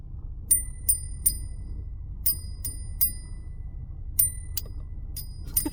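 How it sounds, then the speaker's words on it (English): A small hand bell rung in a series of bright, quick dings, clustered in groups of two or three with short pauses between, clear and close over a faint low background rumble. "We're gonna clear the air with the little bell ringer."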